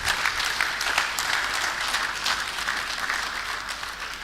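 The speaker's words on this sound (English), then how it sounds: "Please, a round of applause for him." Sustained applause from a crowd fills the whole stretch, steady and even in loudness, with no voices standing out.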